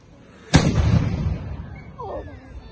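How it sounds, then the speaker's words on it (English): A single loud musket-type gun blast at a historical demonstration at Astley Hall, sharp onset then a long rumbling decay, with faint crowd voices afterward. "he's just going to fire his first shot"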